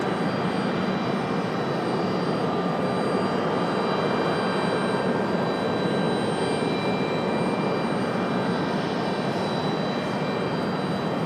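Arriving airliners at Raleigh-Durham International Airport give off a continuous, broad jet-engine roar that holds steady and loud for the whole stretch, with no voices over it.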